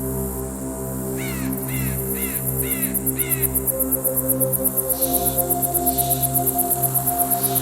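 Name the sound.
recorded bird and insect soundscape for sound design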